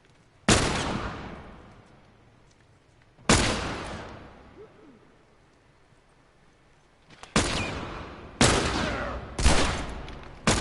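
Gunfire in The Last of Us Remastered, a handful of loud separate shots with long ringing decays, two isolated early and a closer cluster of three near the end, with quiet gaps between.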